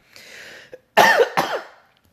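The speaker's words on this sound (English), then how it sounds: "If I'm not talking, I'm not coughing." Two harsh, close coughs in quick succession follow a soft breathy exhale, then quiet.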